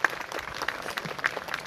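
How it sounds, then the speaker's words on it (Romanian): An audience at an orchestra concert applauds in a short, steady burst of clapping, close and moderately loud. "domnul Liviu Elecheș, pe care îl aplaudăm"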